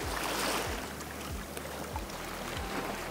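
Waves washing onto a beach at night, a steady broad surf wash with low rolling swells arriving about every half second to second, continuous and fairly close, no voices.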